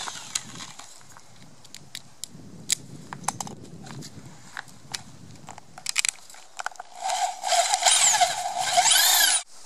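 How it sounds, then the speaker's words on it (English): A power drill bores a hole through aluminum held against a wood support, building from scattered clicks and handling knocks into a loud, sustained whining grind over the last few seconds. "We're going to bore a hole through the aluminum."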